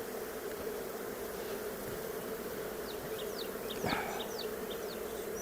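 Honeybees buzz steadily at a hive after a colony split, a dense continuous drone with a few individual bees zipping close past, and no talk.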